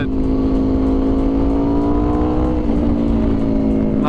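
Loud, close revving from an Aprilia RSV4 V4 sportbike with a Leo Vince exhaust: a steady high-pitched wail held for a few seconds, dipping briefly before rising again, nothing else audible.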